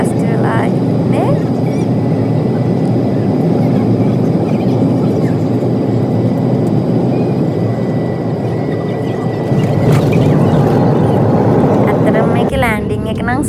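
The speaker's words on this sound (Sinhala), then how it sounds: "දැන් මෙයාලා ලෑන්ඩ් කරන්න තමයි ලෑස්ති වෙලා ඉන්නේ." Airliner cabin during the descent to land at Gold Coast, Australia, a loud continuous engine roar and rumble filling the whole stretch, with a brief rise near the end.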